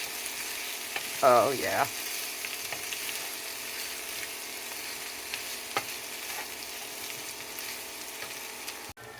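Onions and drained ground meat fry in butter in a pan, giving a steady close hiss with one brief clatter of stirring early on. A short spoken remark comes over the sizzle.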